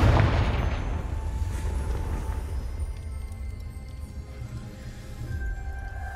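Confringo blasting spell from Hogwarts Legacy bursting in a loud booming explosion at the start, then a rumbling, crackling tail that slowly fades over several seconds.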